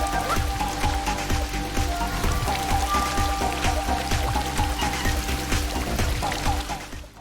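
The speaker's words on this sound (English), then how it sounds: "if you have Astro stand under any form of running water" Running water splashes steadily onto the small robot character in the Astro Bot video game, a dense, rain-like patter that stays loud and even throughout with no talk.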